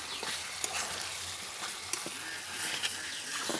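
Greens and previously fried dried chillies fry in a pan with a soft, continuous sizzle, quiet and close, broken by a few light stirring clinks and scrapes.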